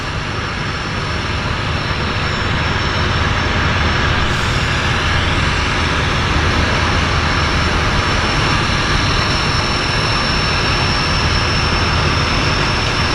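A Turbo Beaver floatplane at Vancouver Harbour gives a loud, constant turbine engine roar at close range, droning evenly throughout with no pauses.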